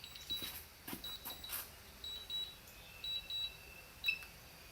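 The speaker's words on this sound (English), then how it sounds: "I was able to cancel that beeping. I dislike that beeping." A series of short, faint electronic drone warning beeps repeats irregularly against quiet background noise.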